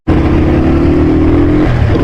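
Motorbike engine on a mountain road near Naran Kaghan, a steady, loud, close drone held throughout, its pitch shifting slightly near the end.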